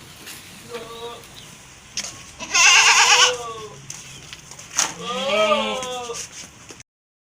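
Goats bleat at close range in a farm setting, with three distinct wavering calls, the middle and last ones loud and drawn out, over light background noise before the sound cuts to silence.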